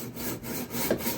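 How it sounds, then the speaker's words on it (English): A hacksaw cutting metal against a small threading template for a screw-in choke: a brief stretch of close, rhythmic rasping strokes, without speech. "take your hacksaw, making sure it's good and straight up against the wall here"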